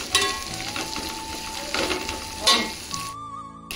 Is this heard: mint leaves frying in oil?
yes